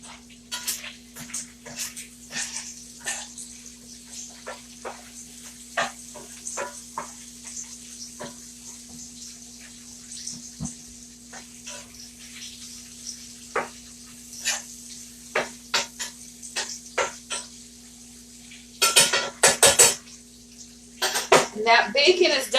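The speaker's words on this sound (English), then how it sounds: "Stir this bacon up again." Bacon frying in a soup pot, with a soft sizzle under scattered light scrapes and taps of stirring that turn into louder, denser bursts of stirring near the end.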